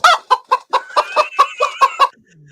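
Chickens cluck from a soundboard in a quick rhythmic run of about nine close, loud clucks that stop abruptly after two seconds.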